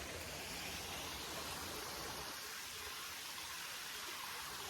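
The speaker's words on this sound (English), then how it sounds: "there's a small creek right here. So I can hear water." A small mountain creek in the Appalachian backcountry rushes steadily nearby, a dense, even hiss of flowing water that holds constant from start to finish with no voices over it.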